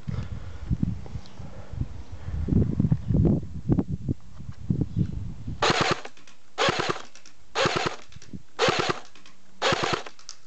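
A CYMA 1928 Thompson airsoft electric gun fires five short, sharp full-auto bursts at a steady pace, loud and close, after a stretch of softer thumps and handling noise.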